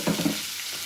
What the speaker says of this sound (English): now I'm going to dump those vegetables in and stir fry those in that oil that I cooked the pork in